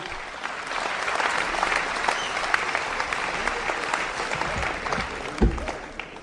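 An audience at a sports club awards ceremony applauds its participants with dense, sustained clapping that holds steady and fills the room, and a brief thump appears near the end.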